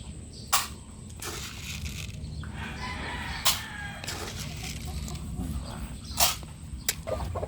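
Breeder chickens in a backyard coop, with steady clucking and murmuring from the flock and a few sharp, loud crows or squawks standing out at intervals over a continuous outdoor background.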